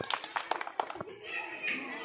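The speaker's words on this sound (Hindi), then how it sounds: "मैंने कहा ताली बजाओ" A group of children claps hands during a fun academy games activity, a burst of several quick claps close by, followed by voices talking.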